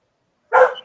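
A dog barks once after a pause, a single short, fairly loud bark with no talking over it, recorded indoors in a home setting.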